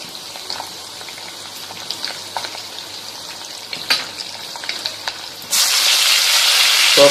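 Dry red chillies and tempering spices sizzle in hot oil with soft crackles and pops, then a louder, steady hiss of frying surges up near the end.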